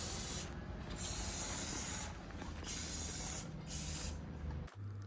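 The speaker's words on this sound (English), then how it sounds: "then we're gonna spray the beads" A spray can of gold paint hisses onto wooden beads in several steady bursts of a few seconds each, separated by brief pauses, loud and close.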